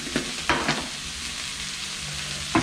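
An egg omelette mixture with black pepper powder is stirred for an Afghani omelette, giving a few short scraping clicks near the start, middle and end over a low, steady hiss.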